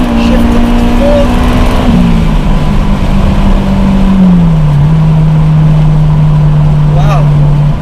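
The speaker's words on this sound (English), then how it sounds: "the revs just keep climbing and they are quite long" Honda S2000 engine revs steadily upward with gear changes, a sustained loud drone stepping down in pitch at each shift, heard from inside the car over road noise.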